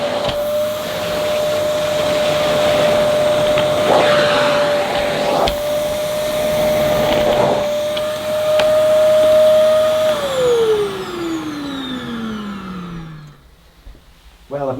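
Simplicity SV1 vacuum cleaner running on a living room carpet, a loud steady whine with shifting suction noise as it passes over the pile, then powering down with a falling tone near the end.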